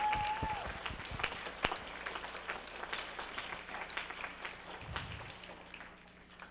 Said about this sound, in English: a round of applause for all the hard work they do.